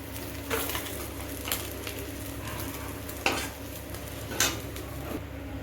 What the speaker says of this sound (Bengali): সব মাছ ভাজা হয়ে গেছে, এখন মাছগুলো সব নামিয়ে দেব।